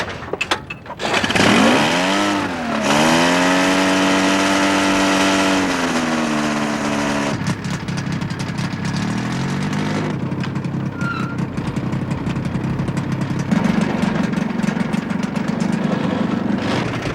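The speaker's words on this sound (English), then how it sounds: "They're powered by a 46-horsepower 2-stroke engine, originally designed for a snowmobile" A Drifter ultralight plane's 46-horsepower two-stroke snowmobile engine revs up with a rising, buzzing whine over the desert of the Skeleton Coast, then holds a loud, rough drone that shifts in pitch several times.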